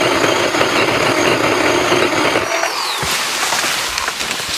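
A Dewalt cordless pole saw cuts through a tree branch. A loud, steady motor whine and chain buzz run for about two and a half seconds, then drop off into quieter rustling and a crack as the cut finishes.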